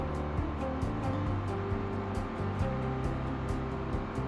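Car engines in Cities: Skylines 2 traffic, a steady layered drone of revving motors with shifting pitch, continuous and fairly loud throughout with faint ambient hiss and no talk.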